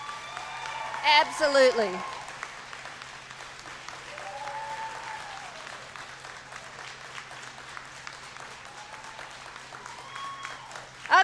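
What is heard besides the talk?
audience applause at a commencement ceremony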